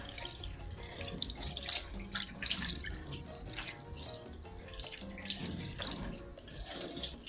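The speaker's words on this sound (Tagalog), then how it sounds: "hugasan natin ito. So aanlawan lang natin siya ng konti." Tap water runs steadily while brined pork belly is rinsed under it in a sink, a soft, continuous splashing with small irregular surges and drips, heard close but quiet and without talking.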